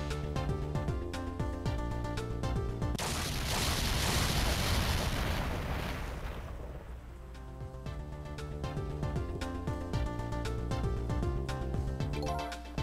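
A video-game explosion in Ghost Trick: Phantom Detective sounds as a loud, roaring burst that swells over a few seconds and then fades. Steady background music plays throughout.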